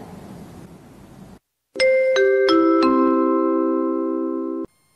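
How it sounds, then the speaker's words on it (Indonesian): School bell at an Indonesian high school signalling break time: a loud electronic chime of four descending tones that ring out together and sustain for several seconds before cutting off, following a quieter stretch of room noise. "Bel tanda istirahat telah berbunyi"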